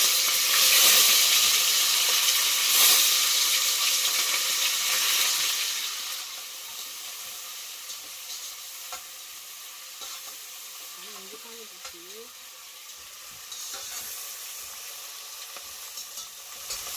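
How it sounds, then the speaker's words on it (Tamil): Onions frying in hot oil with fennel seeds, cumin and green chillies for a mutton dish, a steady broadband sizzle that is loud at first, then settles lower with occasional stirring scrapes. "பாருங்கள், அதோட வெங்காயம் ஆட் பண்ணிக்கலாம்"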